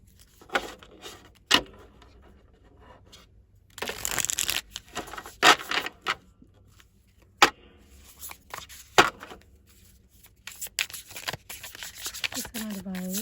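Tarot cards being shuffled by hand, in scattered short riffling and slapping bursts with quiet gaps between.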